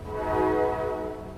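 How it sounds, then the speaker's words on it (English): A train horn sounds in a majority Black neighborhood of West Louisville, one steady, tonal blast held for over a second, moderately distant and clear against quiet surroundings. "the sound of a train horn kept punctuating the conversation"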